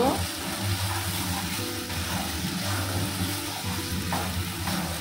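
Bean and shrimp paste curry sizzles in a pan while being stirred, a dense continuous frying hiss with scraping movement and some faint background clatter.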